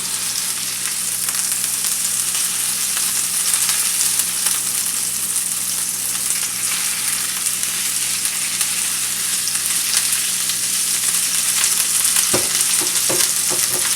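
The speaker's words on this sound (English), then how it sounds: "while our chorizo cooks and our chiles" Chorizo and chiles frying in a covered pan, giving a loud, steady, close sizzle that continues throughout, with a few knocks near the end.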